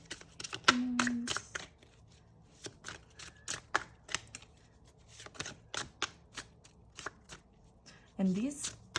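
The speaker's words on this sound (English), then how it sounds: "this deck is really long, so it's a little harder for me to shuffle" An oversized tarot deck is shuffled by hand in a series of crisp riffling bursts and card slaps, close and fairly quiet, with a person speaking briefly between shuffles.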